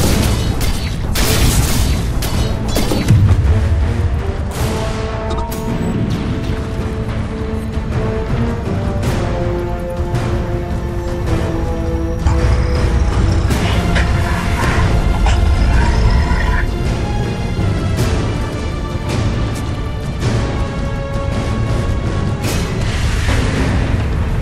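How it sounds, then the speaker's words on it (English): Dota 2 match audio with a tower under attack: continuous loud game music and layered impact booms and bursts, dense and steady throughout, with a brief announcer voice. "Radiant's top tower is under attack."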